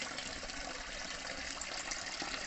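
Water pours steadily into a koi pond from a small waterfall in a brick-built pond at the front of a house, a constant close rushing splash without pauses or talking.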